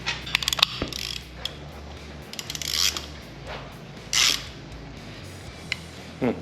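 Ratchet wrench tightening motor mount bolts during a restoration of a 1968 Chevrolet C-10 with an LS engine swap, clicking in several bursts of rapid pawl ticks with pauses between, close and fairly loud.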